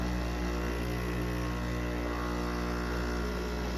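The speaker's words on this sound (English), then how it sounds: "I think all the plastic parts are rattling against each other, but here you can see it's pushing out the cleaning cycle." Gourmia GCM4230 coffee maker running its self-clean cycle, a steady loud mechanical hum and drone with a faint buzzy rattle of loose plastic parts, continuous and unbroken throughout with no talking.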